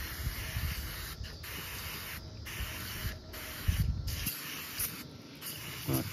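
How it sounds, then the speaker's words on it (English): A spray bottle of glass cleaner is pumped in several quick, close hissing bursts while cleaning the area around a Toyota RAV rear tail light, with short pauses between sprays. "I'm just gonna spray this, clean this area. This is a glass cleaner."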